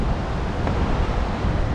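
Water rushing at Pandoh dam in Mandi, Himachal Pradesh, a dense, steady roar of flowing water with constant broadband hiss and rumble, loud and close, with no voices.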